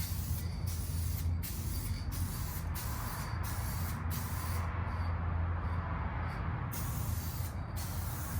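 Aged clear coat sprays steadily onto an electric guitar body in a continuous close hiss, broken by short regular pauses as the spray gun trigger is released and pulled again.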